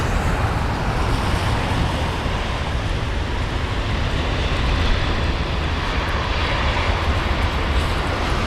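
An airliner touches down at London Heathrow, a broad, steady roar of engine and rushing air that holds evenly throughout, moderately loud, with no voices.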